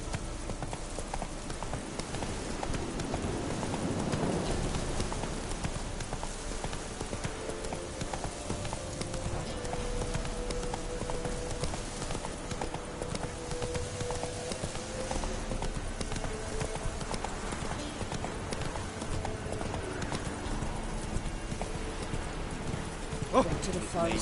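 Roach, a horse in The Witcher 3, clip-clops along at a steady walking rhythm, hooves close and distinct over a soft ambient bed, with voices speaking intermittently.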